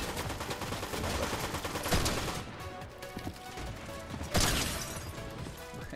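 Rapid gunfire in the video game Fortnite rattles along continuously and close, with two heavier burst-like peaks standing out from the dense barrage.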